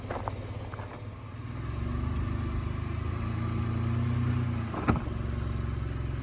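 A vehicle engine idles and rises in a steady low rumble as it creeps up onto rocks to level it at a wooded campsite, with a brief knock near the end.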